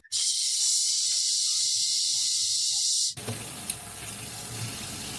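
Water runs from a tap in a steady, fairly loud hiss for about three seconds, then cuts off abruptly, leaving quieter room noise.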